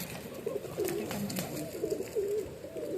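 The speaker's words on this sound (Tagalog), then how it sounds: "So, ito ay isang kalapati, hindi siya pating." A pigeon coos softly in low, rolling phrases, repeating several times against a steady background hum.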